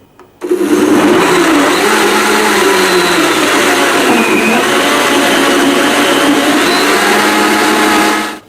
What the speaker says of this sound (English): Now blend this for 30 to 45 seconds on high